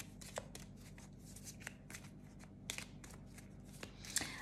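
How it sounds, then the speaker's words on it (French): Oracle cards are shuffled by hand during a tarot reading, a soft continuous riffle of papery slaps and flicks, close and fairly quiet, with no talk. "je termine avec une petite carte de mon oracle"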